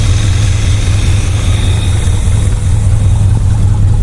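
A V8 Chevrolet El Camino engine idles steadily after its first start in years, a loud, continuous low rumble with a constant mechanical drone and no voices.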